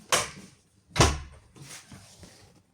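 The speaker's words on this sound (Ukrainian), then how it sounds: "І, коротше, двері закрию." A door is pushed shut with two distinct thuds about a second apart, the second louder, followed by a faint softer knock and some rustling in a quiet space.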